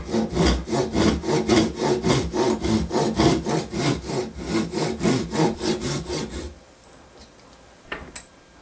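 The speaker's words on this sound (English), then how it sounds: "I'm going to take this little saw and set it vertically" A small hand saw held vertically cuts through a wooden dowel in quick, even back-and-forth strokes for about six seconds, then stops, leaving near silence with a brief knock.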